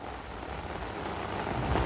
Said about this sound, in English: what's a camping trip without a little rain, right?